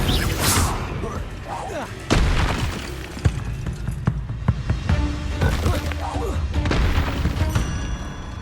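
Hogwarts Legacy spell combat with an Incendio fire spell: booming fiery bursts and sharp impacts recur amid dense game noise, with a voice calling out spells over the loud, busy mix.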